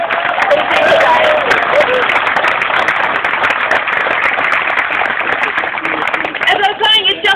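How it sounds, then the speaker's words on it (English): A crowd at a rail rally in Newcastle claps in a sustained, even burst of applause, with voices talking over and through the clapping. "So a big round of applause for everybody who's here today."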